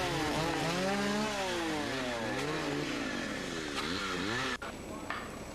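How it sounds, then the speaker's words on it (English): Chainsaws roar while a faller and swamper fell and buck trees and heavy brush to clear a wildfire fire line, engines revving up and down in overlapping whines before one cuts off abruptly, loud and close. "Heads up when working near chainsaws."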